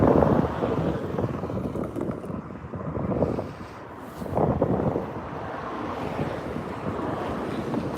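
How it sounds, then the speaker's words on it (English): Gusty wind buffets the microphone outdoors, a constant roaring rumble that swells and eases in waves and stays loud throughout, with no speech. "You can probably hear the wind though"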